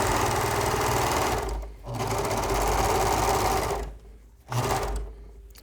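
A serger overlock machine stitches a seam in two loud, steady motor-driven runs, with a short pause between them and a brief final burst after a longer pause.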